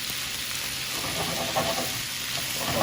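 Half a Spanish onion hits a hot stovetop pan and sizzles, a steady close frying hiss with faint stirring movement throughout.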